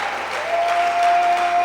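A congregation applauds during a church worship service, a short burst of close, steady clapping that swells slightly, with a faint sustained tone beneath it.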